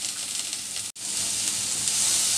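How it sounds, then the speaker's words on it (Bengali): Thin slices of raw papaya frying over a high flame, a loud continuous sizzle that drops out for a split second and then carries on steadily. "এই পাতলা স্লাইসগুলো একটু ভেজে নিব।"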